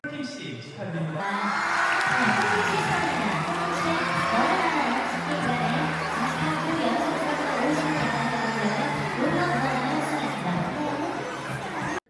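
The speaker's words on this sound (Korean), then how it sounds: "이렇게 박수도 크게 쳐주고 뭐 표정도 환해지면서 그런 식으로 환호를 해줍니다" An award-ceremony audience cheers and whoops with loud crowd noise and chatter, a dense, steady roar of voices held for the whole stretch; distinct clapping is hard to pick out.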